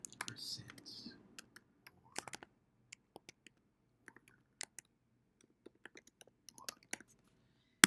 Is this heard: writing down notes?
yes